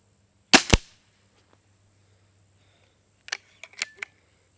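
An N-Tec Diana 340 .177 air rifle fires with a crisp, clean snick and a short thud, close and loud, followed by quieter mechanical clicks a few seconds later.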